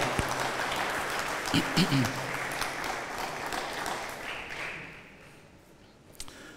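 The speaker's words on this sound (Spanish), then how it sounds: "déle un fuerte aplauso porque es una buena noticia" Congregation applauding in church during a Spanish-language sermon: a dense, sustained wash of clapping that slowly thins and fades out over several seconds, ending with a lone sharp clap.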